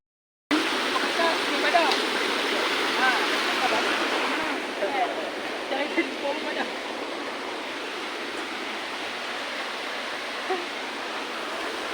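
Steady rushing river water at Sungai Badak on Gunung Jerai, a dense broadband roar running continuously and fairly close with no clear pauses.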